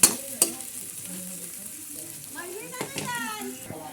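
Carrot, potato and hotdog frying in a pan are stirred, a sharp utensil clack at the start and again soon after, then a steady sizzle with scraping strokes, while children's voices chatter faintly in the background.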